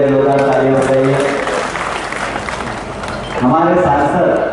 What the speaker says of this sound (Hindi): सिंह जी के जोरदार तालियां बजाइए